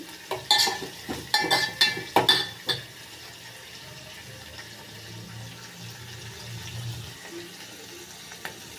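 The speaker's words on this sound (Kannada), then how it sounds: "ಒಂದು ನಾಲ್ಕು ನಿಮಿಷ ಬೇಯಬೇಕಿದೆ ಚೆನ್ನಾಗಿ ಫ್ರೈ ಮಾಡಿ" Food frying in a pan is stirred for a jowar mudde dish. A quick run of loud scraping and clanking strokes opens the sound, then it fades into a quieter, steady sizzle and hiss.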